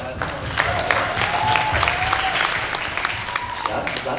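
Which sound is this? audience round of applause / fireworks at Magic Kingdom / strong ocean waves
audience round of applause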